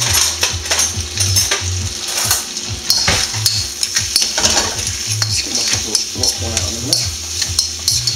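A mackerel seafood pasta sauce cooking in a pan, with a steady loud sizzle under repeated close scraping and stirring strokes of a utensil against the pan bottom, and no voices.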